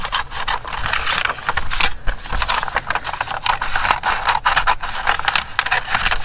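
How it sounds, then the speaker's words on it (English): A piece of brown paper bag is cut for a craft project, with continuous dry rasping and scraping. The sound is close-up and steady, with no talking. "cut out a piece of this paper bag here."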